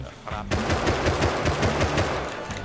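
Rapid automatic gunfire in the video game Rust, a loud unbroken burst of evenly spaced shots lasting a couple of seconds, close and dominant.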